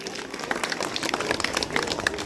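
Scattered, moderately loud hand clapping from an audience at a school annual day and result ceremony, applauding a top-ranked student, with distinct individual claps heard through a steady patter.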